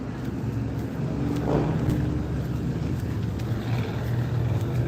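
A big truck passes on a road during an outdoor walk, its low engine rumble steady and moderately loud for several seconds, swelling slightly midway with no voices over it.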